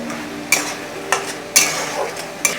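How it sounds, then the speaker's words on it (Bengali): Chopped onions softening in a pan with small splashes of water and little oil. Soft sizzling runs under four or five sharp scrapes and clanks of a spoon against the pan, with no talking. "বারবার একটু অল্প অল্প করে জল দিয়ে আমি এটাকে পেঁয়াজটাকে নরম করে দিচ্ছি"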